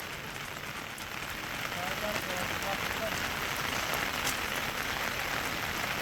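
Heavy monsoon rain in Mumbai pours down as a steady, dense hiss that swells slightly after the first couple of seconds and holds without a break.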